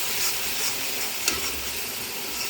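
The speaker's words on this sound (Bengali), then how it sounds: "এখন মশলাটা খুব ভালো করে কষিয়ে নিব।" Ground spices, chili, coriander and cumin powder, frying and being stirred in a pan for a winter bean and fish curry: a steady soft sizzle with a faint scrape of the spoon, no talking.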